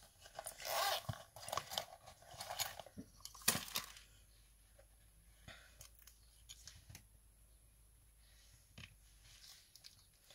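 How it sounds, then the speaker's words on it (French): Scissors snip through thermal printer paper at close range in a handful of quick, crisp cuts clustered early, followed by quieter rustling and a few isolated snips. "Paire de ciseaux."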